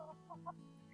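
Smallholding hens at a winter vegetable-scrap buffet cluck faintly in a short run of soft, distant notes against a low background hum.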